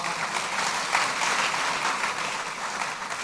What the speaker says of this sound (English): So he deserved also a round of applause.